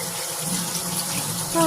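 Tap water runs steadily into a kitchen sink during dishwashing, a close, continuous broadband rush at even loudness with a brief tonal clink near the end.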